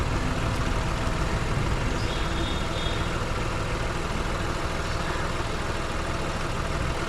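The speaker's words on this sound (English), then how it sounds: "I have started the engine and plugged it inside the 12-volt power socket" A car engine idles with the motor running to power a plugged-in 12-volt tyre inflator, a steady low rumbling drone with an even buzz on top, close and unchanging throughout.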